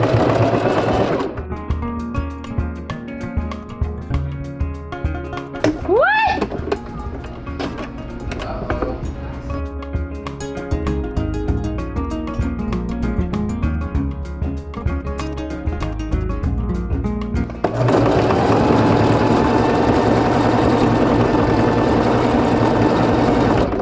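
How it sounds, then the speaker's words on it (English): A sewing machine whirs in rapid bursts stitching hair wefts for clip-in extensions, stopping and starting, with a brief squeak partway through and a steadier hum near the end. "Sewing machine makes it so much faster."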